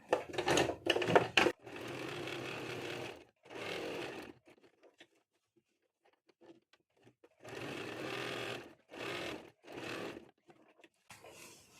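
A sewing machine stitches a kurti made from leftover cloth in a series of short whirring bursts separated by pauses, including a quiet stretch midway, with no voices.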